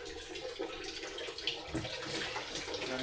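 Tap water runs steadily during cleaning at home, a constant hissing splash with small shifts in tone and no voices.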